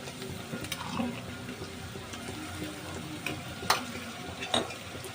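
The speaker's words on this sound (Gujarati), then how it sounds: "હવે બે ચમચ આદુ લસણનો પેસ્ટ એડ કરી દઈશું" Ginger garlic paste frying with onions in a pan for a prawn gravy makes a quiet sizzle under repeated spatula stirring and scraping, with several sharper clinks of metal on the pan.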